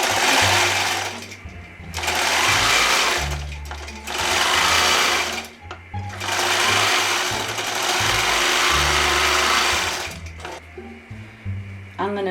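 A longarm quilting machine stitches binding onto a quilt, its motor whirring loudly in several long bursts separated by short pauses, with a low mechanical hum underneath and some faint handling noise between runs.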